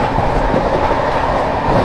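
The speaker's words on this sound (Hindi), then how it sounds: "चलिए दोस्तों अपनी वेस्ट बंगाल संपर्क क्रांति स्किप करने जा रही है इकदिल रेलवे स्टेशन को" West Bengal Sampark Kranti Express passenger train running loud and close on the rails, a dense continuous rumble with a steady clickety-clack of wheels and no voices.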